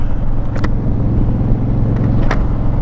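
A Honda Fury motorcycle rides at night, its engine a loud, steady low rumble with a rapid pulsing beat and wind roar, continuous throughout with no talk.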